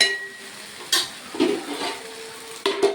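Chicken curry being stirred and sautéed in a pan, with a few distinct scrapes and clinks of the spoon and lid over a soft background sizzle, heard close with no talking.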